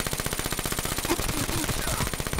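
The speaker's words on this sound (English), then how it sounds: "That dude's shooting me." Rapid automatic gunfire in a shooter video game, a steady stream of evenly spaced shots fired loud and close for a couple of seconds without pause.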